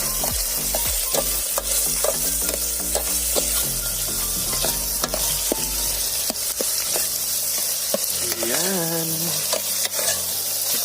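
Adobo scallops simmering in broth in a pan, a steady bubbling sizzle with frequent stirring clatter, while music plays loudly throughout.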